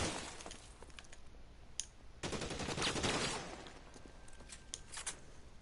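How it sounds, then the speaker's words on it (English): A Tommy gun rattles in L.A. Noire, with bursts of rapid automatic fire in a noisy shootout, including one long sustained burst mid-clip and scattered shots and glass-like cracks around it. "Ooh, Tommy gun."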